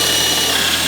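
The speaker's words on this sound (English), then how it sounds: "Then I am going to take a small Phillips head screw and drill it into each one of those holes." Power drill running continuously as it drives a small Phillips head screw into a black PVC privacy gate, a loud steady whirring hum held throughout with no talk.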